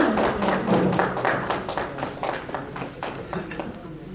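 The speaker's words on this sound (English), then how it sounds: "A round of applause for everyone." Applause at a meet and greet, scattered claps from a small crowd that start lively and thin out over a few seconds, with a voice speaking underneath.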